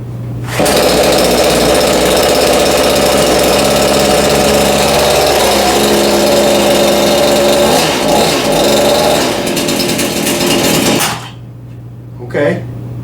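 A Harbor Freight Portland 18-inch gas chainsaw starts up and runs loud and close for about ten seconds with a harsh, steady engine roar, then cuts off. A brief sound follows in the quiet.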